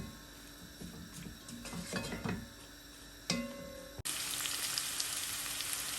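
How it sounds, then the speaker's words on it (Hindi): A pan clatters with utensil knocks before two medium onions hit the hot pan for chicken jalfrezi, setting off a sudden loud, steady sizzle that fills the rest of the clip. "अनियन को बस थोड़ी देर फ्राई करूँगी, 2-3 मिनट के लिए हम।"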